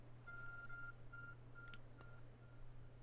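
A glowing object in Pokemon Legends: Arceus gives off a series of short electronic beeps in repeated bursts, faint over a steady low background hum.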